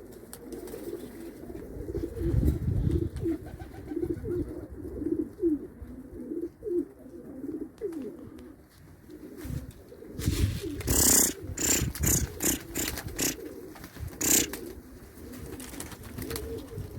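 Arabian pigeons coo softly in low, repeated murmurs against outdoor background noise, with a few sharp wing flaps or taps near the end.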